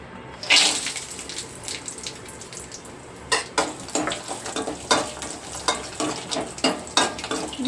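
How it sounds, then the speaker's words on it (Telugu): Cashews, almonds, pistachios and raisins frying in ghee for semiya payasam: a steady close sizzle with a ladle stirring and scraping the pan in repeated strokes, no talk. "నేనైతే ఇప్పుడు ఈ నెయ్యిలో జీడిపప్పు బాదం పప్పు పిస్తాపప్పు అలాగే కిస్మిస్ కూడా వేసేసి వేయించేసుకుంటాను"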